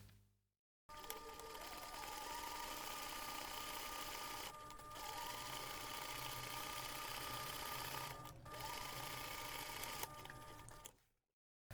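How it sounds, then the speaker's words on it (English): A sewing machine stitches a seam on a laptop bag, its steady whirring motor running continuously for about ten seconds with two brief pauses, moderately close and alone. "take this to the machine and sew the seam"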